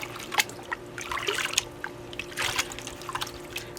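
Water sloshes and trickles in a gold pan as light minerals are washed off, with irregular splashes and drips close by, fairly loud and without talking.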